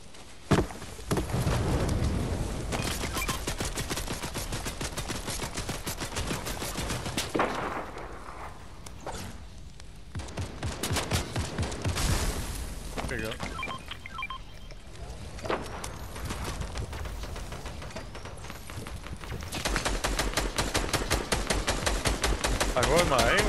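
Gunfire in the video game Fortnite, rapid bursts of sharp shots repeating through a busy game soundtrack, with players talking over the shooting.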